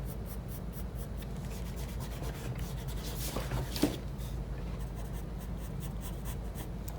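Soft, steady pencil strokes rub across paper while shading a drawing of a calf muscle, a faint continuous scratchy hiss with one slightly firmer stroke midway.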